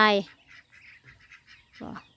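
Ducks on a rural farm near rice fields give a loud honking call up front, then softer scattered quacks and a second close call near the end.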